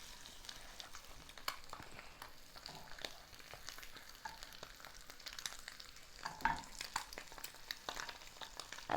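An egg fries in a pan with a faint, steady sizzle and crackle, broken by a few brief scraping clicks as it is turned over.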